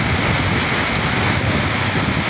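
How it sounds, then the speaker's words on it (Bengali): A dense, loud wash of noise like a heavy downpour, steady and unbroken throughout with no voices. "বৃষ্টির গতি আরও বাড়তেছে"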